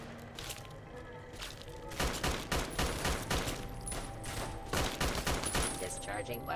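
Weapons fire in the video game Fallout: Tale of Two Wastelands, rapid bursts of gunshots in quick succession after a short lull, loud and close with background game ambience.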